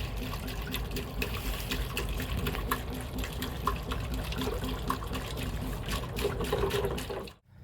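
Water pours steadily through a funnel into a bottle on a frosty canal boat trip, a close, continuous trickling splash that runs for several seconds before cutting off abruptly.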